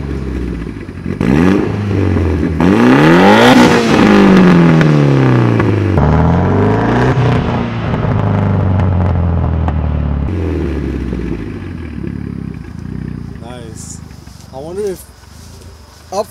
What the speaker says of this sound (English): when you rev it up, you can rev like a low RPM, mid range, and then like one, sure, you know, pretty high up